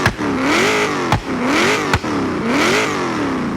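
Race-exhaust car in Forza Horizon, its engine revving hard three times in a row, each surge broken by a sharp crack. Loud, aggressive and close.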